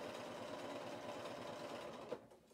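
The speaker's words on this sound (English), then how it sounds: "So you can also do a bit of chain stitching" A sewing machine runs a steady chain stitch, its quiet, even mechanical whir continuing without pause before it winds down near the end.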